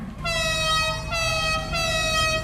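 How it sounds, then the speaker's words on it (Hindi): A loud, sustained motorcycle horn blast in GTA 5 with a bright, buzzy harmonic tone, sounding in two long honks back to back with no talking. "ये इस बाइक का हॉर्न"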